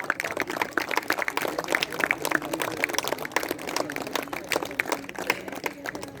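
Applause at a school felicitation ceremony for inter-school sports as a memento is presented to the chief guest: dense, steady clapping from a hall audience lasting throughout, fairly close, with no talk over it.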